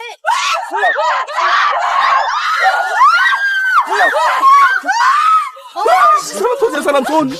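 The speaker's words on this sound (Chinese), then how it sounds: "她情绪崩溃的惊声尖叫" A female student in a Korean sci-fi thriller drama shrieks in panic, with loud, near, shrill screams rising and falling across several seconds as other voices join in.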